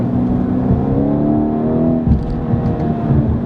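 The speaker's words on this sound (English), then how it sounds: "The engine sound is pretty nice too." A 2017 BMW 230i engine pulls hard with a rising whine, then briefly shifts in manual mode and keeps accelerating, heard from inside the car.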